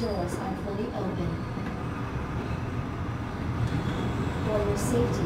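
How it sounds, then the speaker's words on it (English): A tram in Resident Evil 2 rumbles steadily as it pulls into a station, a continuous low rolling drone with a faint high screech near the end and a voice speaking over it. "This tram is bound for Nest."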